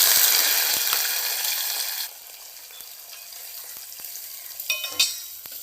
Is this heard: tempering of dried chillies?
yes